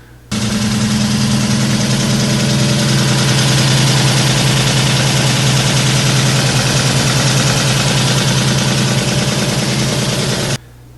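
A Ford Mustang Foxbody engine idles steadily with a locked-up oil pump, giving a loud, continuous low rumble with a constant vibrating drone and an added odd mechanical noise throughout, with no talking.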